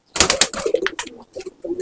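A Chotial male pigeon coos close up in a few quick throaty bursts, with short pauses between the soft repeated calls.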